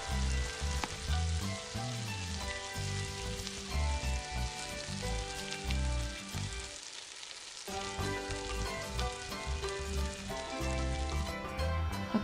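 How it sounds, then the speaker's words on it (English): Chopped wood ear mushrooms stir-fry in a hot pan with a steady, dense sizzle throughout, close and continuous, dipping briefly in the middle, with no speech over it. "add in the chopped woody mushrooms and continue to stir for about 1 to 2 more minutes until it is cooked"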